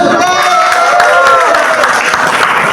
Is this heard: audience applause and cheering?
yes